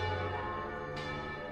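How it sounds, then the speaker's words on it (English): Bells ringing across London, sustained and resonant with a long, steady hum of overlapping tones and no voices. "the Duke is awakened in his tower cell by the ringing of all the bells in London"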